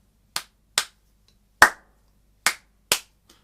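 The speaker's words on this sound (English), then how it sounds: "then the 5-beat cycle will be clapped" Five sharp hand claps sound in a slow, uneven rhythm cycle, close and dry with silence between them.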